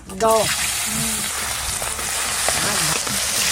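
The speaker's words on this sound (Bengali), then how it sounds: "দাদু এই গরম তেলে মাছ ছেড়ে দিলাম" Pieces of a large pomfret sizzle steadily in hot oil, a loud continuous hiss that fills the whole stretch. A brief voice speaks at the start.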